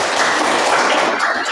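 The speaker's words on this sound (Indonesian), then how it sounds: "tepuk tangan yang mulia" Students in a vocational school classroom break into a short, dense patter of applause, close and steady for a second or two.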